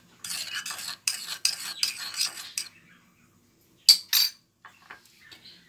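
A utensil scrapes and clinks in a bowl, stirring herbs, spices and a spoonful of olive oil together into a marinade for sardines, in short brisk bursts with pauses between them, close and fairly quiet.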